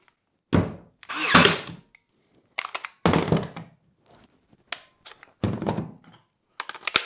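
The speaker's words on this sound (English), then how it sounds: "all you do is you push it in as you would with a Ryobi battery, Makita battery" A battery is pushed into a Ryobi power tool through a Makita battery adapter, giving several short, close plastic thunks and clicks spaced across a few seconds in an otherwise quiet room.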